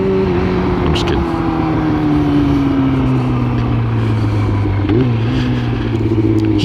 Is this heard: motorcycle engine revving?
yes